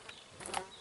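A small, freshly hatched fly with patterned wings buzzes outdoors in spring, a faint, brief whir of beating wings close by. No one speaks.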